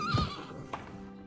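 A horse in the medieval farming game Medieval Dynasty gives a short, fairly faint whinny, with a soft hoof clop shortly after, all in under two seconds.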